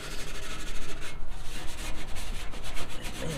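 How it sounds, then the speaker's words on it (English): Brillo pad scrubbing a Coleman 424 camp stove part, a steady close abrasive rubbing with quick back-and-forth strokes that runs without pause. "So just do a little bit more scrubbing."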